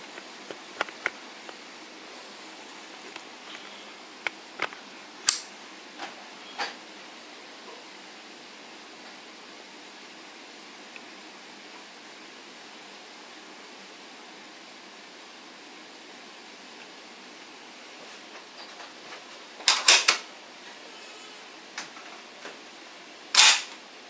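A gas-powered Remington rifle's action is worked by hand, giving a few sharp, separate metallic clicks and clacks spread across a long, otherwise quiet stretch, with a quick double clack near the end.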